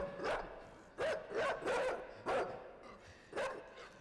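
A dog in the game Inside makes strange, alien-like barks and yelps, five or six harsh, distorted bursts in quick succession, fairly close, with no talking.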